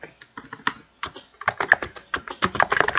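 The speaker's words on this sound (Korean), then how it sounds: "타이핑하고 계신 거죠?" Keys clack on a computer keyboard during PHP coding, at first in sparse taps, then in faster, denser bursts of close, crisp keystrokes with no talk.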